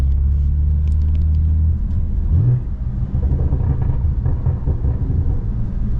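A BMW M4 Competition engine with an AWE SwitchPath exhaust rumbles low and steady, then revs up with a deep, throaty exhaust roar that stays loud and close.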